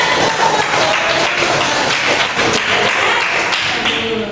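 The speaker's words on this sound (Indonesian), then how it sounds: "Oke, tepuk tangan dulu ya." Applause in a classroom, many hands clapping in a dense, steady burst that stays loud throughout.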